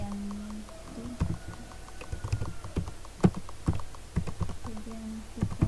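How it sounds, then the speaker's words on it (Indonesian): Computer keyboard keys typed while entering a label caption in Visual Basic 6.0, sounding as a loose run of irregular, fairly close clicks and taps over a low background hum. "Nah, di label ini kita akan mengetik"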